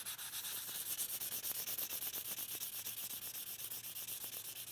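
Hand sanding a knife tang with fine grit paper makes a soft, rhythmic back-and-forth scratching, quick even strokes repeating steadily, close but faint, with no talking.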